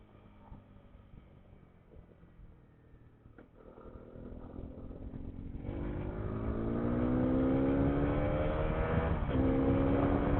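Hero Xpulse 210 motorcycle engine under way, climbing steadily in pitch and loudness as it pulls through the gears, with brief dips at the shifts before the revs build again, close and continuous without any talk.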